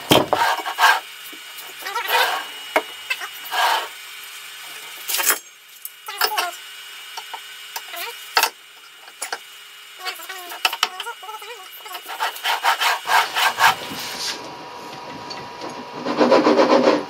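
A saw cuts through wood in a workshop with short forward and back strokes, making close, uneven rasping bursts separated by brief pauses, with louder scraping toward the end.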